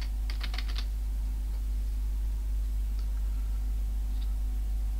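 Typing on a computer keyboard during a Linux lesson: a short burst of light clicking keystrokes near the start, then a few isolated taps over a steady low hum.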